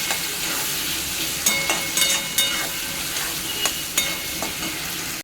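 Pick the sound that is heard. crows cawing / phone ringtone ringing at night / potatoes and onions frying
potatoes and onions frying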